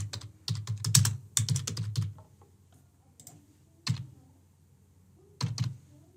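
Fake card details are typed on a computer keyboard in quick close clattering bursts, then a few isolated keystrokes follow after pauses.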